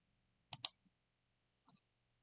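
A computer mouse gives a quick pair of sharp, close clicks, followed a moment later by a softer single click, in an otherwise silent setting while working in Blender.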